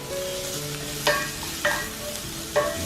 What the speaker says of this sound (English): let it fry. Then I'm gonna put in the onion.